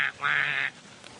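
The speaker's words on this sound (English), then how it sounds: "Chasing little ducks around a pond." A duck at a pond gives a single loud, nasal quack burst of about half a second, followed by quieter background noise.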